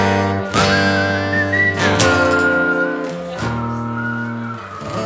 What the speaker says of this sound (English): I'm not a very good whistler.